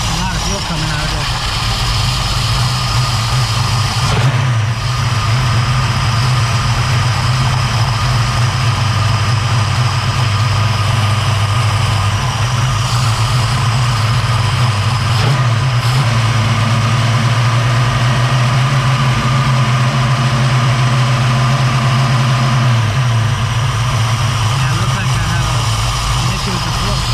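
Engine of a 1989 Notchback car idling steadily after its stuck carburetor float freed up, a loud continuous low rumble running throughout with talk over it.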